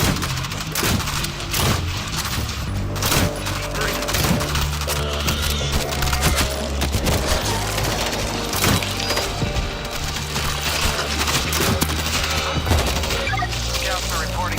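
Continuous gunfire from the World War Z Aftermath video game, dense rapid shots with sharp splintering impacts over a steady loud battle backdrop throughout.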